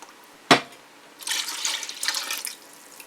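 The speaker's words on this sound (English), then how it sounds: "We're going to also add in 1 cup of whole milk." Whole milk being poured into a pressure cooker: after a sharp knock, a steady liquid pour streams in close by for nearly two seconds, with no talk.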